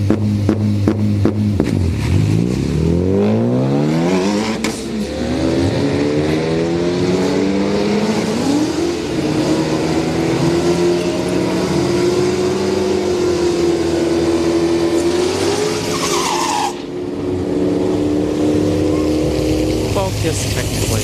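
A Ford Focus and a Dodge Durango RT drag race at a street night at Orlando Speed World, loud engines revving and rising in pitch through the gears, a sustained roar with a brief drop in the middle.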